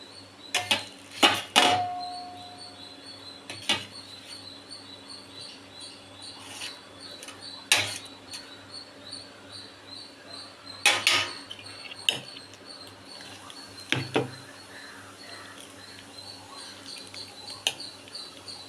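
Potato being stirred into a bowl of batter, heard as scattered clinks and scrapes of a utensil against the bowl, with bursts of sharper knocks among quieter stretches, close and without talk.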